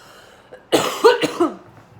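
A short burst of a few dry coughs close up, clustered in about a second, with quiet before and after.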